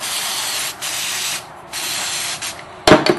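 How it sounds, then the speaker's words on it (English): A wooden scroll saw piece is sanded by hand in a steady, dry rasping hiss that pauses briefly twice, then ends with a few sharp knocks and clacks. "This is that piece I need to sand down some more."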